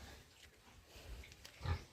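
Piglets on a farm grunt in a few short, low, snuffling bursts, quiet at first and swelling into a louder grunt near the end.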